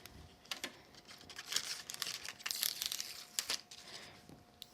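Tape peeling and crinkling off a cardstock frame while a metal die is set aside during a card-making project, heard as soft crackly bursts, close and fairly quiet, with no talking.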